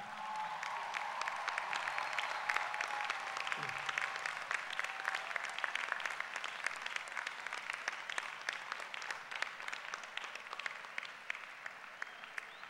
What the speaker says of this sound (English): show your sincere appreciation by applauding all of those who made this day possible